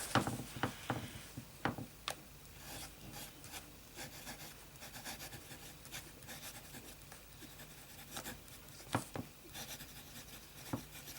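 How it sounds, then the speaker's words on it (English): A fountain pen writing with Sheaffer King's Gold ink on paper gives soft, faint scratching and rubbing strokes, with a few sharper taps and scrapes scattered through a quiet stretch. "Let's do a little bit of medium writing."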